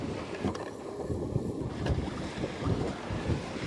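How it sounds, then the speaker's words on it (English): A sailboat with one reef in the mainsail moves through open water in a building wind, gusts buffeting the microphone over the wash of waves along the hull, with no voices. "We're sailing."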